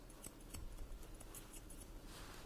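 Thinning scissors trimming a Bichon Frise's coat in a grooming session, a quick series of soft, close snips in irregular rhythm at low volume.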